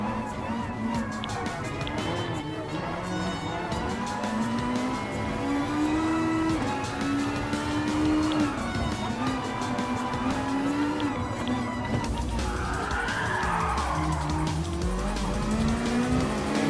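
Race cars roar around a track in Gran Turismo Sport, engines whining steadily up and down through gear changes, with tyres squealing and skidding under the close engine drone. A voice talks briefly over the racing.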